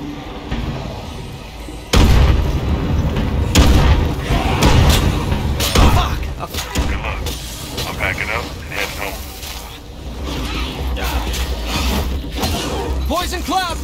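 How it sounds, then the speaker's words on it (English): Mortar fire explosions in the video game State of Decay 2, heavy booms and crashing impacts layered over continuous dense battle noise and music, loud throughout. "I'm gonna want you to lay down some mortar fire in a minute."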